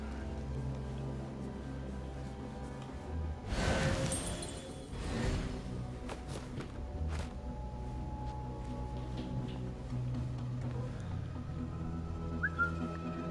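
A character whistles in the stealth video game Assassin's Creed Mirage: a brief whistle amid a dense in-game ambience, with a loud clattering burst around the middle and steady background sound throughout.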